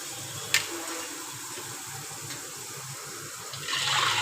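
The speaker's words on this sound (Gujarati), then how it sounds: "આ સ્ટેજ ઉપર આપણે પાણી નાખવાનું છે" Water poured into a hot chips mixture gives a steady broadband gush with a sharp splash near the start, swelling into a louder hiss toward the end; no talking.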